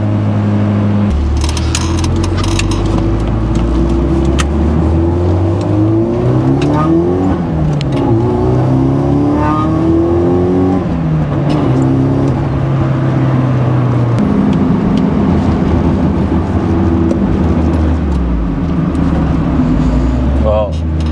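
A 1995 Nissan 240SX with a turbocharged SR20 engine accelerates hard through several gears, the engine note climbing, dropping at each shift and rising again, loud and close from inside the car while a person talks over it.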